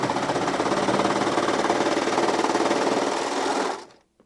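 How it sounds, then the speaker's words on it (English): A Baby Lock serger stitches through five layers of denim, a loud, fast, even mechanical whir running steadily for several seconds and then stopping abruptly. "And 5 layers of denim is very impressive for a serger."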